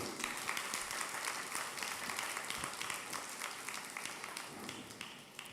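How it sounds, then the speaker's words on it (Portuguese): A church congregation applauds the musicians with a sustained, dense round of clapping that fades slightly toward the end. "Um aplauso para nós musicantes"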